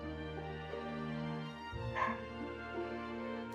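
A dog barks a few times in the background, faint and partly masked by steady electronic game music, with a brief louder burst near the middle.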